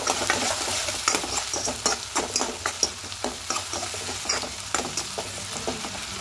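Onion and tomato with salt stirred in a frying pan, a close sizzle broken by repeated quick scraping strokes of the spatula at an uneven rhythm, with no one talking.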